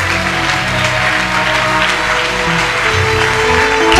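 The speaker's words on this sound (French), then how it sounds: "On acclame le Seigneur." A congregation claps and cheers together in a church hall, a steady dense wash of applause over sustained music that swells slightly toward the end.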